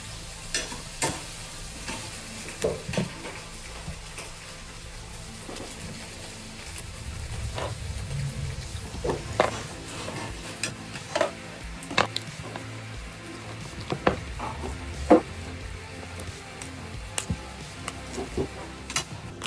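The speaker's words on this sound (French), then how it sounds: "je vais faire revenir dans une petite sauce" Shrimp sauté in a sauce in a pan, giving a continuous soft sizzle broken by irregular scraping and clinking stirring sounds, close and moderately loud, with no talking.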